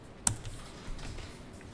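Light computer keyboard typing in a quiet room, a few soft scattered key clicks with one sharper tap near the start, faint and close.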